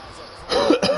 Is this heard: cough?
yes